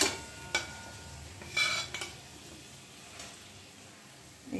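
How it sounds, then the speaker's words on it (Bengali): Prawn and soybean mixture being stirred into frying masala in a wok, with soft scraping and stirring strokes over a faint sizzle, a few louder clatters of the spoon against the pan, no talking. "এইভাবে আমি কড়াইয়ের মধ্যে এই সয়াবিন আর চিংড়ির যে মিশ্রণটা ছিল সেটা দিয়ে দিচ্ছি"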